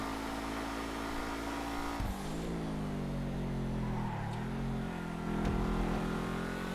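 Dewbauchee Seven-70 sports car engine in GTA Online, a steady loud drone with shifting pitch, gear changes and revs rising and falling across the run, no talk.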